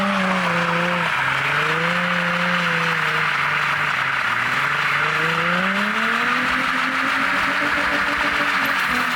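A Nissan 350Z engine roars steadily at high revs while tires squeal in a sustained burnout, a tire about to pop, the pitch sliding up and down, loud and close throughout.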